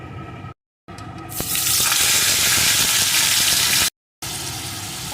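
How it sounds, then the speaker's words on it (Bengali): Brine-soaked paneer frying in hot oil, a loud steady hiss of sizzling that swells sharply after the pieces drop in, with two brief silent gaps, close up and no voices. "এখন পনিরগুলোকে আমি একটু লাল লাল করে ভেজে নেব"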